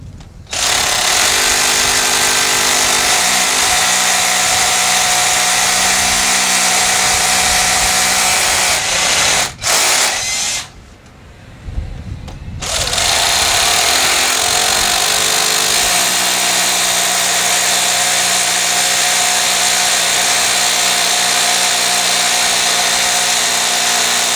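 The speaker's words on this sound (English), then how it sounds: "If you're drilling into masonry, you need an SDS drill." A loud SDS hammer drill grinds continuously into masonry, pausing briefly midway before resuming its harsh, rattling whine for the rest of the clip.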